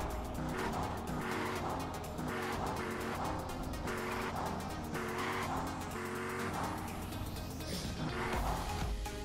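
Car engine in GTA San Andreas multiplayer (SA-MP) driving during a driver's license test, a steady loud motor drone with repeated rising revs and tire squeals throughout, no talking.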